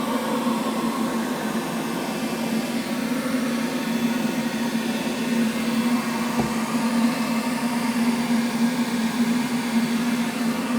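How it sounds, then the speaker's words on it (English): A blower runs at high intensity during a flour test of a particle mask, giving a loud, steady, continuous roar with a constant humming tone throughout and no talking. "I turned up the intensity on the blower, and we're going to try it again"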